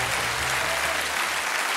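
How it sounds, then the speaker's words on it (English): Steady, dense applause from a studio audience on a football TV show, honouring two footballers reaching milestone games; continuous clapping with a faint low hum underneath, fading slightly toward the end. "So a round of applause for those two gentlemen."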